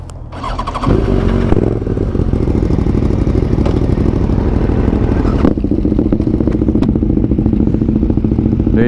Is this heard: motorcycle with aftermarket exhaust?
yes